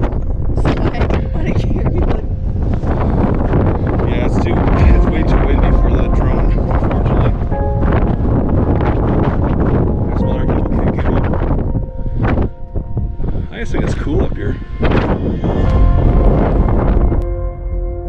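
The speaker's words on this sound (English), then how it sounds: "There's so much wind that it takes the breath right out of you." Strong gusty wind on a hilltop at a fire lookout buffets the microphone continuously, roaring and fluttering loudly, with occasional voices talking underneath.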